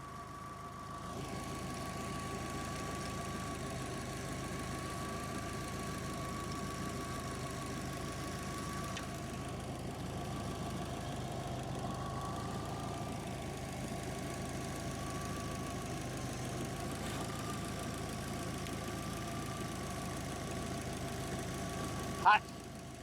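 A Subaru Forester STI engine idles at a steady, low, even hum with a faint mechanical tick for over twenty seconds, ending in a brief sharp click.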